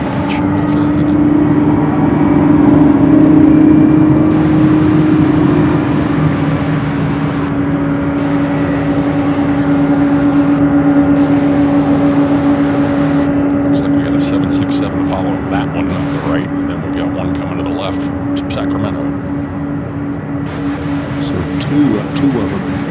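Two MD-11 aircraft roll in tandem at Louisville International Airport, sending a loud, sustained jet engine drone with a steady whine that holds throughout the clip.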